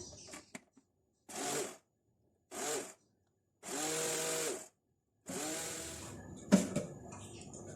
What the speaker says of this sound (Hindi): प्याज और दही को ग्राइंड कर लेते हैं